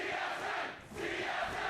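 Large esports arena crowd cheering for a team at a North American League of Legends match, a loud sustained roar of voices with a short dip in the middle, continuous and without speech.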